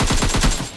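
Gunfire from a shotgun in a shooting video game: a rapid run of loud, close blasts packed into under a second, with no talking.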